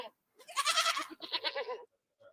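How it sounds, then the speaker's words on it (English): A baby goat gives two close bleats in a row, the first longer and louder, the second shorter and quavering, followed by a short quiet gap, with no talking. "I just heard real goat noises"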